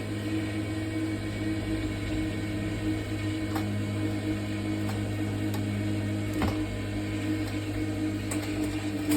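A sewing machine stitches fabric with a steady, close mechanical hum and faint occasional ticks running the whole time, with no voice over it.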